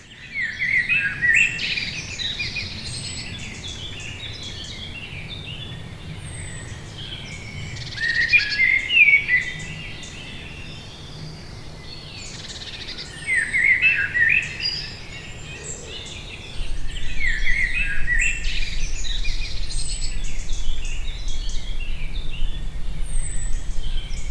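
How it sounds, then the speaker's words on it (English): Birds call in repeated bursts on both sides of an outdoor path, bright chirping phrases recurring every few seconds over a steady low background hum that grows louder toward the end. "I'd love to get a recording of that bird"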